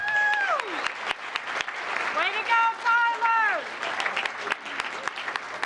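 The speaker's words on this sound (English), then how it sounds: "Let's give Group 2 a big round of applause." Applause from a town council meeting audience, a broad steady clatter that runs throughout, with cheering voices and a person speaking over it.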